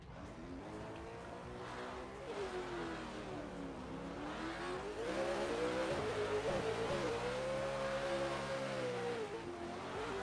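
Drift cars battling in a pro-am drift competition, engines revving hard with rising and falling pitch, overlapping engine notes and faint tire squeal, loud and continuous from a spectator distance.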